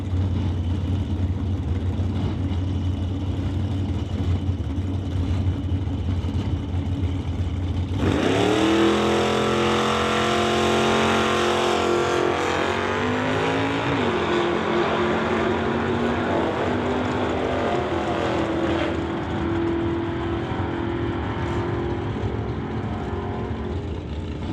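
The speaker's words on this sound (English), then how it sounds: "Racing the full clip Malibu up against Rob Monroe Jr. and the SD Performance Gibson Racing Transmissions Horizon Paint 1969 Acadia" A full clip Malibu and a 1969 Acadia drag race cars in a non-electronic series launch hard, engines erupting into a loud roaring rev that climbs through gear changes, then fades gradually into the distance.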